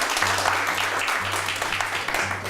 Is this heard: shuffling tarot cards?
no